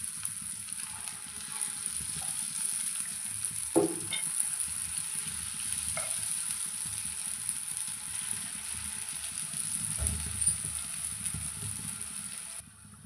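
Potato and rice bajji fritters fry in oil with a soft, steady sizzle and faint bubbling, punctuated by a few spoon taps and scrapes near the pan.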